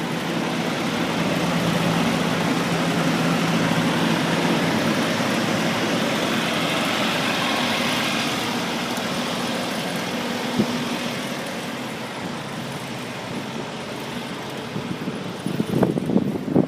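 Lots of trucks and cars idle in traffic near a campus, a steady low engine rumble with broad road noise throughout, easing slightly toward the end where a few brief knocks and clatters stand out.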